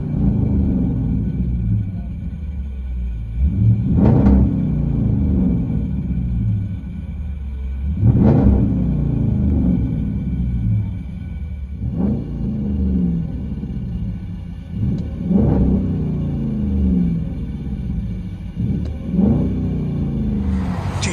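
A deep 5.7-liter HEMI V8 exhaust on a 2012 Jeep Grand Cherokee with Flowmaster Outlaw mufflers rumbles from inside the cabin, swelling in repeated revs that rise and fall over a steady low drone.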